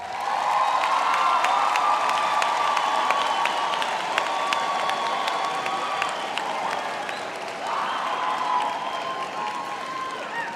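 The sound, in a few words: graduation audience applause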